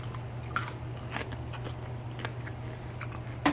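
Crunchy bites into a pan-fried chicken and vegetable potsticker, a few crisp close-up crunches and chewing sounds spread over a few seconds against a low steady hum.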